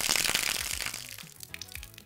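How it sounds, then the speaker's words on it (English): Water dripping, captured for sound design, with a watery hiss that thins out and gives way to a few small, sharp drip-like ticks spaced unevenly near the end. "Dripping."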